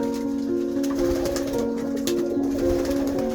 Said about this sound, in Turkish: Kuşlarımızı birazdan salacağız dışarıya.